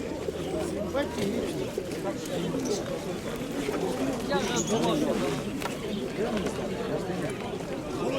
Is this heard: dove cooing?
yes